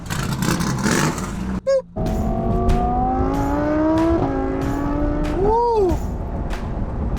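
A Rolls-Royce pulls away and accelerates, its engine rising through several gear-like climbs into a strong rev, loud and close, with a brief voice and an electronic beep near the start.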